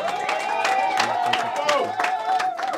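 Steady crowd noise with applause and cheering at a press conference at a hippodrome, dense and continuous throughout, with a high sustained tone riding over the top.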